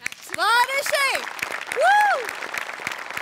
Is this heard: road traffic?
no